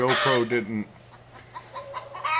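Chickens cluck and murmur close by after dark in a short burst, followed by softer scattered clucks over a low steady hum.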